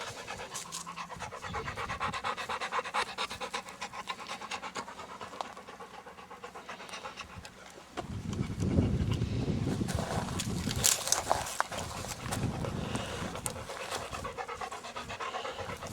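A dog pants rapidly and steadily, close by, its quick breaths continuing throughout with some background rumble growing louder partway through.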